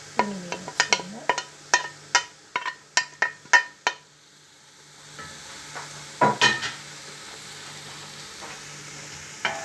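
Meat and tomato being stirred in a pot for Moroccan harira soup, a spoon scraping and clinking in a quick run of strokes over a low sizzle, then a pause before a few more scrapes.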